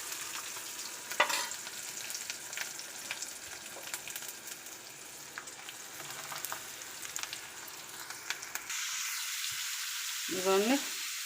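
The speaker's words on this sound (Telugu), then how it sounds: "వెల్లుల్లి వేసుకున్న తర్వాత కొద్దిగా ఫ్రై అయితే అవనిచ్చేసి" Garlic and beetroot frying in a pan, a soft steady sizzle with occasional stirring clicks and scrapes, fading into a brief running-water rush near the end.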